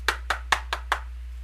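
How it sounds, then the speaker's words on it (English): Five sharp knocks strike a door in an even, quick rhythm, each crisp and close, over a low steady hum and with no voices. "There was a knock at the door."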